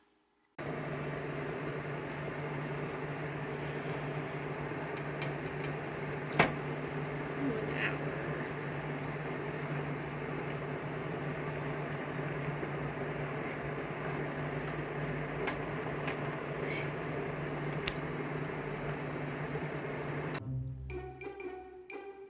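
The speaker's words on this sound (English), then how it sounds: "I do have to sit under the dryer at least to let these set." A hooded hair dryer runs with a steady, loud, unbroken whirring drone that holds the same level from start to finish and cuts off near the end.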